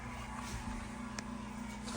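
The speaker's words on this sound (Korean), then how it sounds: "냉장고 전원 켰고요. 작동은 되는데 이게 팬 소리예요." A camper van refrigerator fan runs as a steady low hum with a faint even whir, one brief tick near the middle, and no voices.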